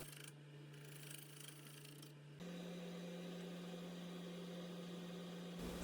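A wood lathe spins a rough, untrued bowl blank at around 550 RPM, giving a steady low hum with a faint scraping texture, shifting to a slightly higher, louder drone partway through.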